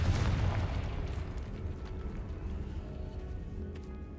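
A Confringo blasting spell explodes in the video game Hogwarts Legacy, opening with a loud boom that settles into a dense, rumbling roar and fades slowly across the whole stretch.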